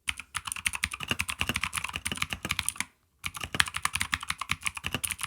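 Fast, continuous clicky typing on a Keychron K2 mechanical keyboard with blue switches, sharp crisp keystrokes in a steady stream, with a brief pause near the middle before resuming.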